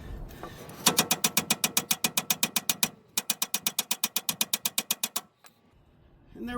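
Rapid, evenly spaced metallic hammer blows on a 1998 Toyota Tacoma lower control arm ball joint, two fast bursts of about a dozen strikes each with a short pause between, loud and close.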